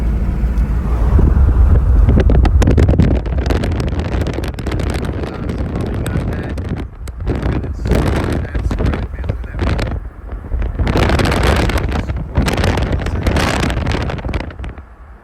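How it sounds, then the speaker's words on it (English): Strong wind buffets the microphone in loud, sustained roaring gusts that swell and ease over the whole stretch, with a faint engine drone and brief honk-like tones in the background. "Look at the wind!"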